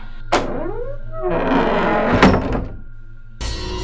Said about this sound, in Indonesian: Tiba-tiba ada yang membuka pintu kamar mandi sebelah dan menutupnya.